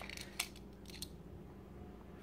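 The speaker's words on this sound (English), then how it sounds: "got so many keys here" A large bunch of keys for an arcade cabinet jingles faintly in a few short metallic clinks and rattles, with a brief louder clink near the start, against quiet background noise.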